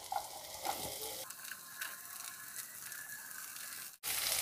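Chopped carrots go into a hot pan and are stir-fried with vegetables, giving soft sizzling with scattered light clicks and scrapes. A sharp clunk comes near the end, followed by a louder sizzle.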